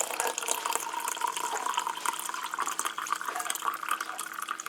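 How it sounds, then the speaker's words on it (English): Coffee poured from a French press carafe into mugs, a steady continuous liquid stream splashing and gurgling close by, with no talking. "Then all you have to do is pour your coffee."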